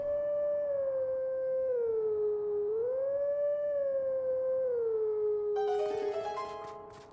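A wolf in Zelda: Twilight Princess howls as one loud, sustained, wavering tone that rises and falls in a slow melody, with a bright chiming game jingle breaking in near the end.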